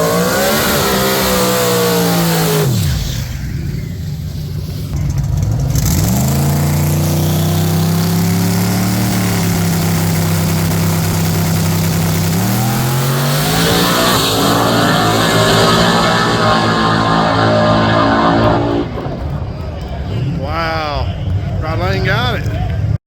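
Mustang drag cars roar and rev hard at the 704 Outlaws race, loud, rising and falling engine howls filling the whole stretch while an announcer talks over the noise.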